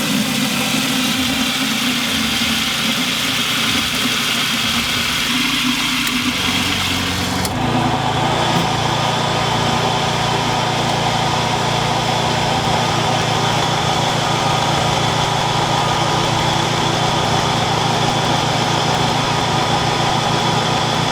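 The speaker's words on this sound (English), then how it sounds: "then the pump is going to kick on." A well water pump runs steadily to pressurize its tank, making a loud, continuous mechanical drone. The tone shifts noticeably partway through as the pump kicks on and settles into a constant hum.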